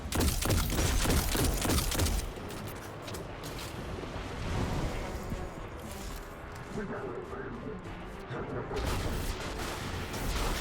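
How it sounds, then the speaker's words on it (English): Enemy gunfire crackles in the video game Destiny 2 during a Master-level Inverted Spire Nightfall, with a dense burst of shots at the start, then steady mixed combat noise and speech over the top. "There are a few enemies that are shooting at me."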